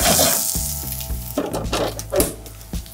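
Onions caramelizing slowly in butter in a pan over reduced heat, giving a steady close sizzle broken by a few stirring scrapes and clinks.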